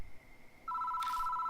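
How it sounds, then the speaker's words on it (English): An old-style telephone rings in the horror game Death Mark, a steady electronic double-tone trill starting after a faint lead-in tone, alone and moderately loud. "The phone rings."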